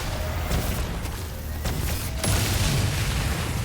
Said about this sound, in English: More explosions.